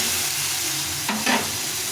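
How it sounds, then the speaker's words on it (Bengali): Chopped tomatoes, softened and melting, fry in a pan, a steady sizzle broken by two quick scraping stirs of a spoon near the middle, close and alone. "টমেটোটা একটু ভাজা ভাজা হয়ে গেছে গলে গেছে দেখো"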